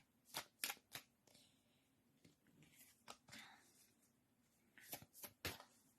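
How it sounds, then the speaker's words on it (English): Tarot cards from a Sacred Forest deck are shuffled in quick, papery riffles that cluster at the start and end, with quieter shuffling and handling in between, close and soft. "Okay, let's shuffle some cards."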